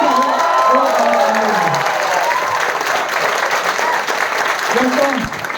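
Loud, dense clapping from a crowd at a business meeting, steady throughout with some voices and shouts mixed in.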